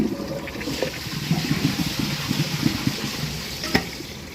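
A Glacier Bay toilet flushing, its rim jets sending a continuous churning rush of water around the bowl, close and steady with gurgling bursts and a brief splash near the end, no voices.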